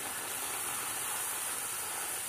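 Puris deep-frying in hot oil give a steady, even sizzling hiss, close and constant throughout, with no talking.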